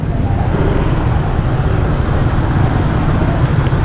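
Dense road traffic surrounds a Yamaha motorcycle ride, a loud continuous roar of engines and wind with no pauses or distinct events.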